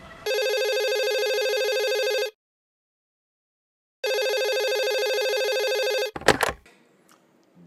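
Electronic telephone ringtone sounding loud and clear in two long bursts with a pause between, followed by a clatter as if the handset is picked up.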